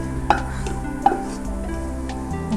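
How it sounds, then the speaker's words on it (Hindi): Mutton trotters (paye) dropped into hot oil in a pan, giving a steady close sizzle with two sharp clatters as pieces land, continuous frying hiss throughout. "अब हम इसके अंदर ये पाए शिफ्ट कर देते हैं।"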